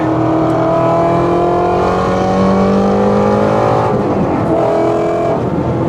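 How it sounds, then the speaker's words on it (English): A Whipple-supercharged Ford Mustang GT350 engine of about 800 horsepower revs hard and steadily, its pitch rising and holding in a loud, continuous roar with a brief dip before climbing again. "Damn, that thing revs, man."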